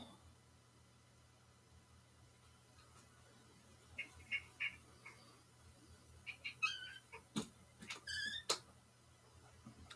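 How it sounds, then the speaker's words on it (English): Cat giving a string of thin, high squeaks, faint against a quiet room hum, several short cries clustered toward the end. "That ridiculous squeak, by the way, was my cat."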